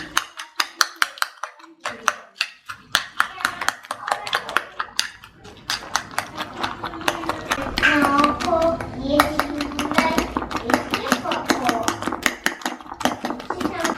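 Eggs and salt being mixed in a bowl with a utensil, rapid clicking and tapping strokes against the bowl, close and steady, with a voice speaking over the middle part.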